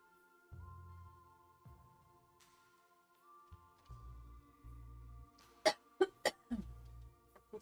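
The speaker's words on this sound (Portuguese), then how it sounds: "Tossindo demais." Several sharp coughs in quick succession, close to the microphone, following a quieter stretch of low rumbling background noise.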